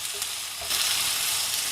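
Onions for a potato masala sauté in a pan, giving a soft, continuous sizzle that grows a little louder partway through, heard alone and quietly.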